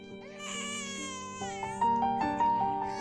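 A newborn baby girl cries loudly in a hospital setting, a sustained high wailing with rising and breaking pitch that grows stronger toward the end, alone without talk.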